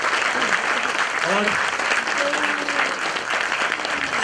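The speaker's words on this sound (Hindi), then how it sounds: "हम लोग जोरदार तालियों से उनका हम फिर से एक बार स्वागत करेंगे।" Loud, sustained applause from an audience at an awareness talk on cosmetics and skin care, dense clapping filling the whole stretch while a few voices speak faintly underneath.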